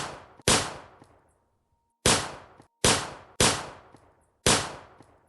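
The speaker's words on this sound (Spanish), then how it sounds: "sintió una descarga de 5 o 6 disparos." Burst of six sharp gunshots as a sound effect, loud and close, each crack decaying quickly, fired in an uneven rhythm with a long pause after the first, no talk over them.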